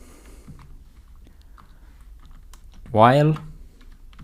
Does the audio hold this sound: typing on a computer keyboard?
yes